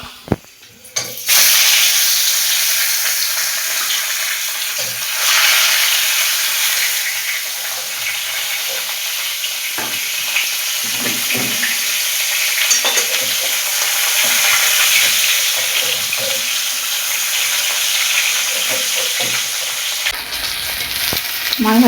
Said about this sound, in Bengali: তো সরষের তেলে মাছটা ভাজবো।